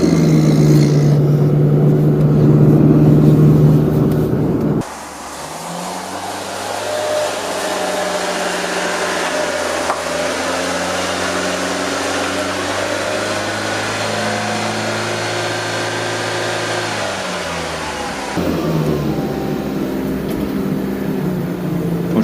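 A turbocharged Fiat Panda idling in a garage after a cold start, its engine a loud, steady droning hum with a deeper tone through the middle stretch, heard close and without speech.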